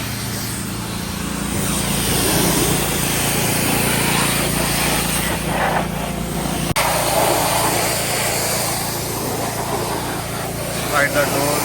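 A pressure washer sprays into the engine bay of a BMW 528i during detailing, making a loud, continuous rushing hiss layered with a motor drone. The spray briefly cuts out about two-thirds of the way through, then resumes.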